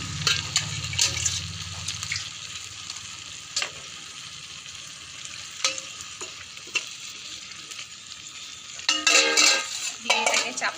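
Water is poured into a hot pan of chili chicken, giving a soft ongoing fry with scattered clinks and stirring, then a louder hissing splash near the end.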